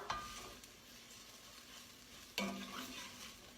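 Rice toasting and being stirred in an enameled cast iron pot for Mexican rice, giving a soft steady sizzle with scraping stir strokes, one sharper scrape partway through.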